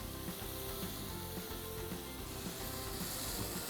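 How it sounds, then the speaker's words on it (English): Paneer frying in a pan with cumin powder, salt and black pepper, giving a steady close sizzle broken by repeated scraping stirs, with no talking. "We stir this till the paneer gets a crispy coat on top of it."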